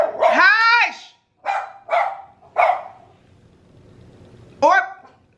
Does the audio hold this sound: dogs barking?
yes